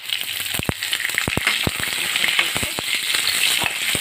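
Potatoes fry in a pan over a high flame for a cauliflower curry, giving a steady close sizzle broken by sharp crackles and pops at irregular intervals.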